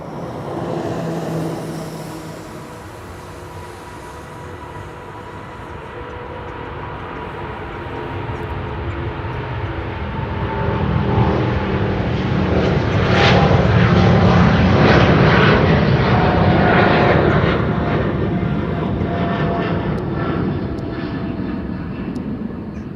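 A KLM airliner takes off from runway 09 at Schiphol, Amsterdam, bound for Nairobi, under a low cloud ceiling. A broad engine roar builds steadily and peaks loud around the middle, then holds as it climbs away, with no talk.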